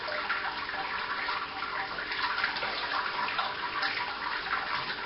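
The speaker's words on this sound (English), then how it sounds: "lift this basket on the malt pipe. So you'll start draining." Wort draining from the lifted malt pipe basket of a Robobrew all-in-one brewing system, making pale ale: a steady, continuous splashing trickle of liquid falling back into the vessel, moderately quiet and unbroken throughout.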